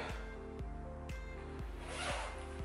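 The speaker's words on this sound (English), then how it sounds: "let's zip it up" A zipper on a leather jacket runs up in a quiet, close rasp over a steady low mechanical hum with regular soft clicks, no voices.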